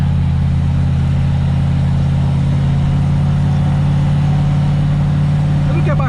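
A V8-engined Centauro car idles close by in a residential condominium street, a steady low rumble holding evenly throughout with a faint rise at the very end.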